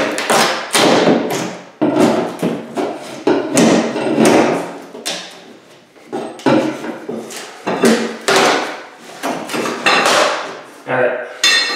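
Hammer blows and prying while pulling nails from baseboard in a rental remodel, a rapid series of loud, close knocks and wooden thuds in uneven bursts with brief pauses.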